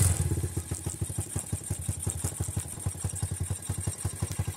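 A Honda Grom motorcycle engine idles after a new carburetor is installed. It gives a close, rapid, even putter with a slight mechanical clatter and runs steadily throughout with no talking.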